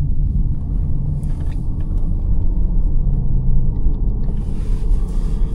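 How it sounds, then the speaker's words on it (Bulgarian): A limousine engine-braking down a hill, heard as a steady low rumble of engine and road noise from inside the cabin, loud and continuous without sharp changes. "Не е нужно да натискам спирачка, ползвам двигателната спирачка."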